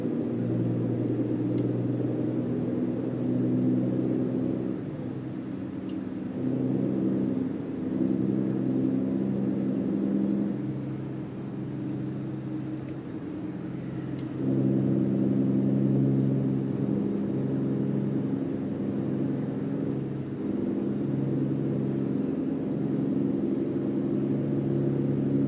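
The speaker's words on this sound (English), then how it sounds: "just enjoy the sound of the truck and the road sounds and everything." A virtual truck in American Truck Simulator drones along the road with a steady low engine hum and road rumble, continuous and even throughout with slight swells in level.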